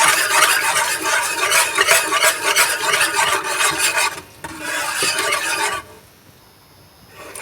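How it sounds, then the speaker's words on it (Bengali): A nababi shimai dessert mixture is stirred and scraped in a pan for Eid, a steady loud rasping scrape that pauses briefly, resumes, then fades to near quiet at the end. "দিয়ে এটাকে ভালোভাবে মিশিয়ে নিতে হবে।"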